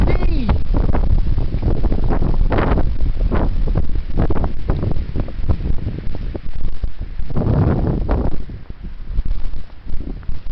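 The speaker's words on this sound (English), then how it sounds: "The wind is blowing like crazy." Heavy wind roars and buffets outdoors in loud, continuous gusts that batter the microphone, with people speaking over it.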